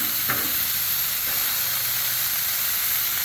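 Teriyaki chicken frying in oil on a Blackstone griddle, a steady close sizzle and hiss with a brief scrape near the start.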